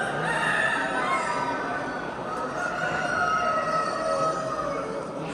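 A rooster crows steadily over a busy chorus of clucking ornamental chickens, including Ottoman sultan chickens, and other fowl at a poultry competition in Afyonkarahisar, loud and close, with no talking.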